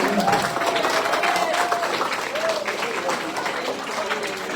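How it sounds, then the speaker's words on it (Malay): Applause fills the hall at a school awards ceremony: a dense, sustained wash of clapping from a large crowd, with voices murmuring and calling out through it. "Beri tepukan kepada diri sendiri"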